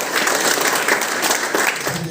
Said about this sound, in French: je voudrais qu'on applaudisse les petites mains des hôtels qui sont des femmes de chambre